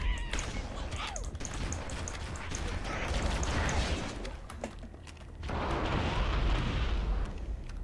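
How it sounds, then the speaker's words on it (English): A big explosion in a sci-fi shooter game with hostile creatures, a loud rumbling blast that swells around the middle, fades briefly, then surges again with sustained roar, amid continuous game noise. "Oh, big explosion."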